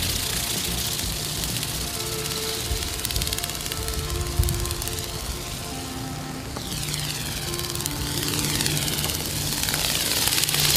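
Small battery-powered Go Go Birds RC flying bird toy in flight outdoors, giving a steady whirring propeller drone with shifting pitch sweeps as it passes, moderately loud and continuous with no talk.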